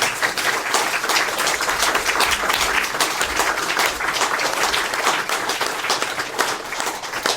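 Sustained applause from an audience at a Buddhist talk in Oslo, a dense, even patter of many hands clapping that continues steadily from start to finish.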